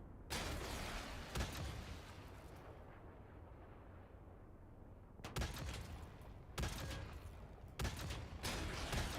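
Semi-automatic weapon fire in an online shooter video game comes as a few loud, dense bursts of shots separated by short pauses, with no one talking over them.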